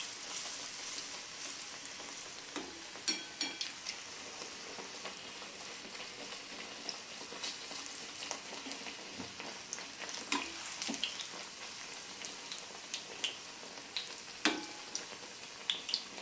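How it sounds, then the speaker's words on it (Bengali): Beguni, battered aubergine slices, deep frying in hot oil over medium heat: a continuous bright crackling sizzle with scattered pops and spatters, steady and close but fairly quiet, with no talk. "আঁচটা আমি মিডিয়াম করে বেগুনিটা ভেজে নেব"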